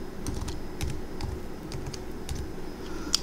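A password is typed on a computer keyboard nearby, a quick run of light key clicks with short pauses and a sharper final tap.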